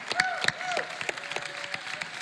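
Audience at a book tour event in Salt Lake City clapping in scattered, separate claps rather than a dense roll, with whistles and cheering voices mixed in.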